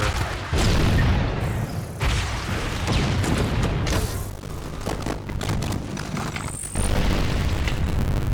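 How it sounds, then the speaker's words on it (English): Rocket explosions in the video game Halo: The Master Chief Collection, several heavy booming blasts one after another with rumbling debris and mechanical clatter, loud and close throughout. "Rocket from long range"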